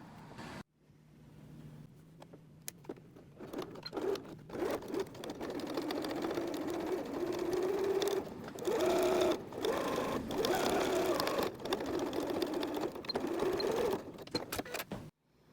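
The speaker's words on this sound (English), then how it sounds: "we'll be stitching across like this" A sewing machine stitches twill tape onto a tea towel apron, running in a steady, continuous whir with a few short pauses and clicks at the start and end.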